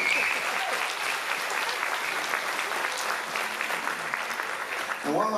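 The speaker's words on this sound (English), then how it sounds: "Would you all give them a nice round of applause?" A concert audience claps steadily for several seconds, a dense even patter of many hands at moderate loudness, then fades as a voice begins at the end.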